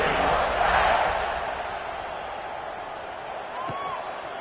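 Home crowd at a football game roaring steadily through a lopsided first half, a broad wash of cheering that swells early and then settles into a sustained crowd rumble, with a commentator's voice faintly underneath.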